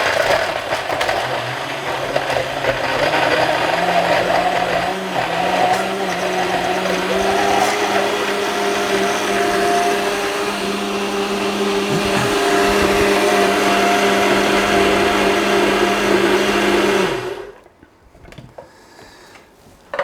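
A blender mixes a protein smoothie with vegetables in a steady, loud motor whir for about seventeen seconds, its pitch shifting slightly as the blend loosens, before cutting off abruptly into a quiet kitchen, with no speech.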